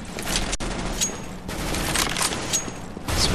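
Gunfire in the video game Counter-Strike: Global Offensive, a dense, loud continuous burst of rapid shots with no talk.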